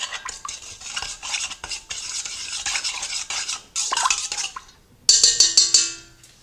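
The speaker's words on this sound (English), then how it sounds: "1/2 cup of white granulated sugar, 4 tablespoons of melted butter, 1/2 teaspoon of salt. I'm just going to mix this up." Sugar, melted butter and salt stirred in a bowl, brisk scraping and clinking of a utensil against the sides in uneven bursts, close and clear with short pauses and no voice.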